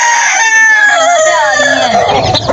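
Domestic chickens and a rooster at a home flock, with a loud, close crowing call stretching across most of the moment and clucking mixed in, ending in rougher squawks.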